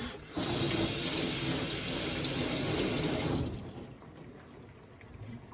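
Ingredients for stir-fried macaroni with shrimp are rinsed under a kitchen faucet, a loud steady rush of running tap water that fills most of the clip before dropping off near the end.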